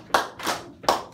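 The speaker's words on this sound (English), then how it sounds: "We want to clap on 2 and 4" A group claps in rhythm, four sharp hand claps in an even beat, close and clear with no voices.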